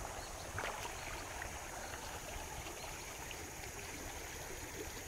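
A clear river flows steadily, a faint continuous watery rush and babble heard from a little distance with no voices.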